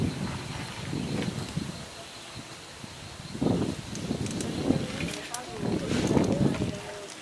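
Outdoor wind gusts buffet the microphone in uneven bursts during a bow drill fire lighting, with voices talking over the rumbling noise.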